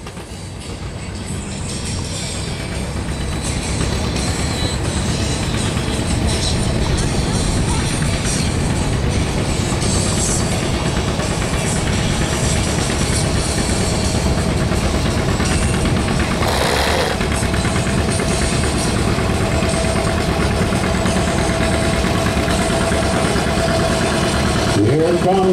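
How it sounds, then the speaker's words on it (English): A John Deere A tractor engine runs steadily and loudly throughout at an outdoor show in Perham. The drone stays constant and close, with no breaks. "Arnie Samuelson came all the way from Park Rapids on a John Deere A"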